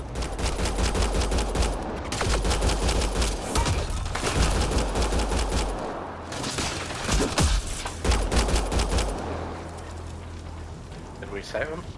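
Heavy gunfire from a firefight in the video game Mass Effect Andromeda, dense overlapping bursts and rapid automatic fire rattling continuously at close range, with shouted voices mixed into the chaos.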